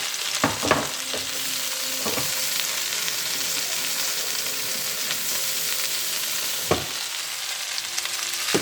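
Shredded cabbage sizzling and frying in a pan, a steady loud crackling hiss with a few sharp clatters from stirring, close up and without talk.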